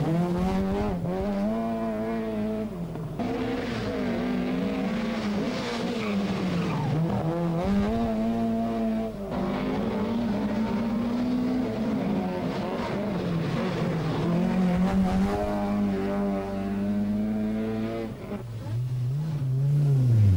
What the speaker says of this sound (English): Second car away, and it's Per Eklund driving a rented Opel Ascona for the first time.